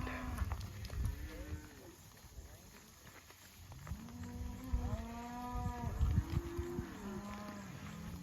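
Cows and calves bellow on a cattle drive to recovered pastures in an extreme drought, several long moos rising and falling from close and middle distance, with outdoor noise between the calls.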